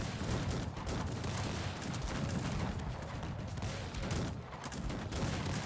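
Massed musket volleys in a Cossacks 3 real-time strategy battle, a dense, continuous crackle of gunfire filling the whole stretch without pause.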